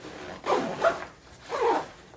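A zipper on a hiking backpack is pulled in two quick, rasping strokes close by, with a short pause between them and no talking.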